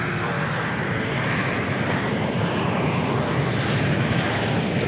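A Jetstar airliner coming in to land at Sydney Airport, a loud, steady broadband engine roar that stays strong and close throughout.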